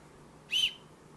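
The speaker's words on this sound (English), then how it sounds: "So you've got a whistle attached right to it, really easy to use." A small whistle built into a Petzl e+LITE headlamp gives one short, shrill, fairly loud blast lasting about a quarter second against quiet.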